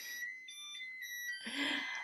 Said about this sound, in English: Sorry for the beep, and that's my oven going off.